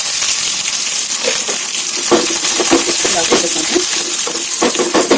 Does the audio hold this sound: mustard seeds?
yes